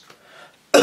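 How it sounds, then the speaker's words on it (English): A single sharp, loud cough at close range, breaking out suddenly after a brief quiet murmur. "that was actually a genuine cough"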